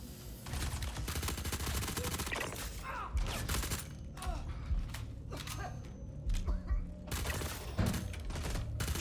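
Suppressed gunfire in Star Citizen, a dense run of sharp shots and bursts repeating steadily across the whole stretch, close and loud over a busy game background.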